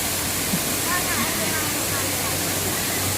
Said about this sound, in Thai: นี่ค่ะน้ำตกเดี๋ยวจะพาเดินเข้าไปให้ได้ใกล้ที่สุดนะคะ